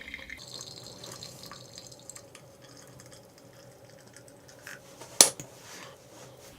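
Hot water trickles into a glass Chemex brewer to steep tea, a faint intermittent splash and drip with a sharp clink near the end, quiet and close, with no talk.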